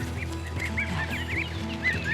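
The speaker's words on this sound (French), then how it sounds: "Ici, les canards sont élevés en plein air pendant 4 mois" A flock of free-range ducks on a farm in Aubrac, France, quacks and honks repeatedly over a steady low background hum, calls overlapping at close to medium distance.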